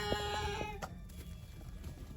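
Turkeys and chicks at a dacha let out a few clear, tonal poultry calls in the first moment, then fade to a quieter, scratchy farmyard background.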